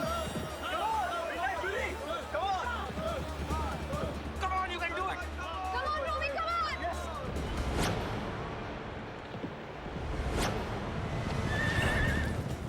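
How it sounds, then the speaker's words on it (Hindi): Racehorses whinny and hooves clip-clop during a horse race, with loud crowd babble and chatter mixed in throughout. "400 मीटर के मार्ग पे घोड़े पहुंच चुके हैं"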